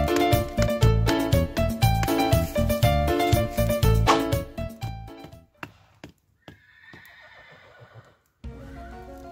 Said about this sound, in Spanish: Un caballo salvaje.